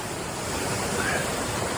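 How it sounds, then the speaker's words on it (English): A waterfall in the Yorkshire Dales gives a loud, constant broadband rush of falling water, mixed with wind buffeting the microphone, with no voices. "We made it to the waterfall."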